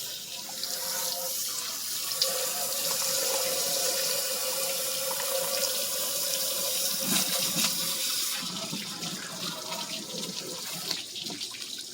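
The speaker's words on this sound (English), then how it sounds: "We got water coming out of all the holes we're supposed to be coming out of" Water gushes steadily in a constant hissing stream out of the holes of a 1915 Ingeco engine block, loud and close, with occasional splashes and clanks.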